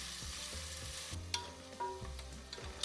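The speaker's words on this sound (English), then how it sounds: "keep frying the onions till they get nice and brown" Onions fry in a pan with whole garam masala for lamb do pyaza. A steady sizzle runs throughout, and a utensil scrapes and clinks against the pan in several close stirring strokes.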